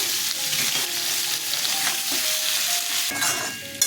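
Potatoes crackle and sizzle in hot oil in a pan, a continuous close frying hiss with repeated stirring scrapes and a small clink at the very end, no voices.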